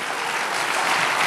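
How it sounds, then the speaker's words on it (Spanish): Church congregation applauding in praise during a sermon, a steady, dense wash of clapping that fills the short moment at full strength without a break. "Dele aplauso al Señor."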